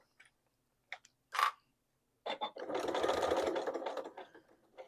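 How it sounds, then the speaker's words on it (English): A sewing machine stitches a fabric overlay bag handle, with a few short ticking needle bursts followed by a steady run of rapid mechanical stitching that fades into brief stops. "When I reach the end, I just sew off and then backstitch."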